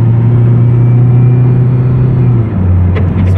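Toyota MR2 engine drops into first gear: a steady low idle-like drone that dips in pitch near the end, with faint knocks at the close; no talk.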